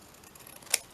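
A single crisp snip of scissors cutting through paper or card, one short close bright click near the end of a quiet moment, with no talking.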